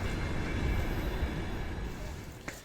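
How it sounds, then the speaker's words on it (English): Interior of a long-distance passenger train crossing rural Russia, with a steady low rumble and broadband rolling noise filling the whole stretch, fading slightly toward the end with a faint click. "We've been on the train for about 12 hours."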